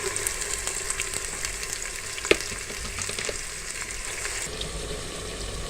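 Onions sizzling and frying in about one and a half cups of hot oil for layered beef biryani, a steady close crackle with occasional stirring and one sharp clink midway.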